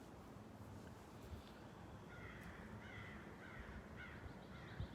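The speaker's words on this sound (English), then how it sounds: "The crows are back." Several crows caw outside, fairly distant and faint, in short repeated bursts over a steady low background hum.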